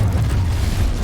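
A fiery Incendio spell erupts in Hogwarts Legacy, a dense rumbling whoosh of flame with a heavy low roar, loud and sustained throughout the short burst.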